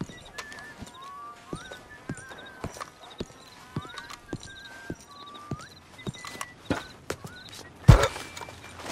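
Video game: rhythmic hoofbeats clop along at a steady walk while a horse whinnies repeatedly, followed by a sharp thud near the end.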